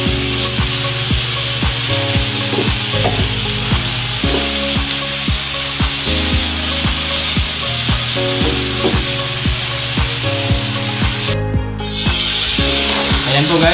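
Bitter gourd (ampalaya) with seasoning stir-fried in a pan, a constant loud sizzle broken by repeated clacking strokes of a utensil against the pan, close up.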